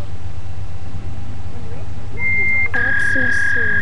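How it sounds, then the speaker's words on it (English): An electronic cell phone ringtone sets in partway through as a steady, piercing tone that swells into a pulsing, layered ring over a low background hum. "Cell phone ringing."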